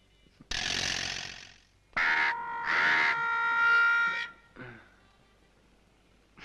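A crow caws in several harsh, loud bursts close by, the longest call drawn out, with short gaps of quiet between them in a Malayalam film comedy scene.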